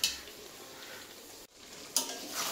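Desi chicken curry frying in a pot as the meat is stirred, a soft steady sizzle with faint utensil clinks, a brief drop near the middle and a sharper clatter of the spoon afterward.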